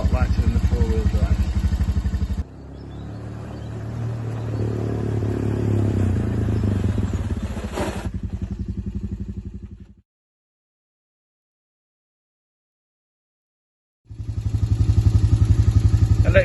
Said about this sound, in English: Electronic gear change on this bike, so you can change gear by doing that.